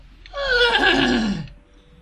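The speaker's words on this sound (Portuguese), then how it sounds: "Só um cavalo." A horse in the video game Zelda: Ocarina of Time lets out one clear, loud whinny lasting about a second, rising and then falling away, alone with no talk over it.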